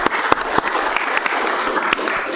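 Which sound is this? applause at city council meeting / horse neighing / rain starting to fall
applause at city council meeting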